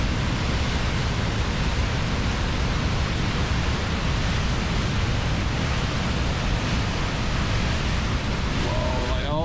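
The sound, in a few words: Reekie Linn waterfall in Scotland, river running high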